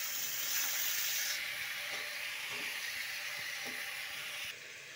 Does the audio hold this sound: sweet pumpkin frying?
yes